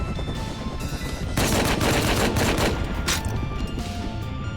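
Gunfire in the online game Rust during a fight with an attack helicopter, a dense, continuous rattle of rapid shots layered over a steady roar, loud throughout.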